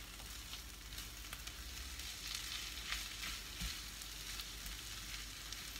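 Vegetables fry and sizzle steadily in a pan with zaatar, thyme and black pepper, with faint stirring scrapes; a continuous close hiss with no talking.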